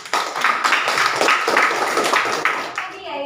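Classroom applause for a pupil's correct answer, a dense wash of many hands clapping steadily throughout, close and fairly loud, fading near the end as a voice begins to speak.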